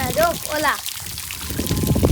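Someone speaks briefly, then a steady rush of water falling from above fills the background at Govardhan hill, splashing continuously and growing slightly louder.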